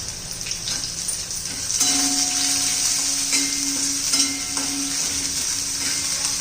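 Finely chopped small onion and ginger-garlic paste sauté in a pan, producing a steady, bright sizzle and frying hiss with occasional stirring scrapes, close and continuous.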